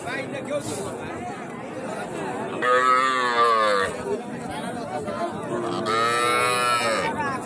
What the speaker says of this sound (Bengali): অলরেডি যে কেনাকাটা চলতেছে একটা সাদা কালার বকনা গরু